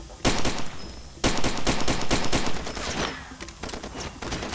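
Video game gunfire in Far Cry 2: loud bursts of rapid shots in clusters, with short pauses and a few sharper single reports, no speech over them.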